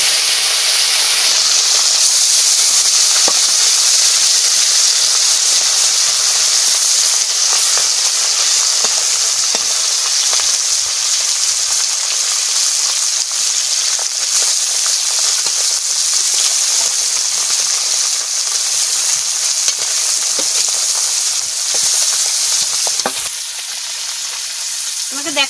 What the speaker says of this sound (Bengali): তেল গরম হয়ে গেছে, আমি মাছ ভাজা বসাই দিচ্ছি